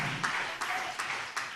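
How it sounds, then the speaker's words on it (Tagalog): A church congregation clapping in a steady rhythmic beat during a preaching service, four evenly spaced claps over a continuous crowd murmur. "Palakpakan natin ang malakas na palakpak"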